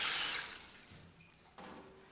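Tap water gushes into a jug for a packet fish batter mix, starting as a loud rushing pour that fades quickly, with a brief splash near the end.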